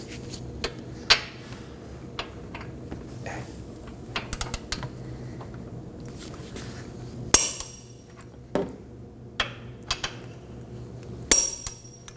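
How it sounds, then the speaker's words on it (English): Torque wrench tightening the front brake caliper bolts on a 2015-2023 Nissan Maxima, heard as scattered sharp metallic clicks and knocks, some in quick clusters, close by over a low steady background hum with no talk. "Now we're going to torque these down to 107 foot-pounds."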